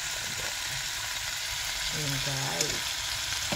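Food for a quick, healthy vegetable meal stirring in a frying pan: a constant bright sizzle with soft stirring underneath, and a voice briefly speaking near the end.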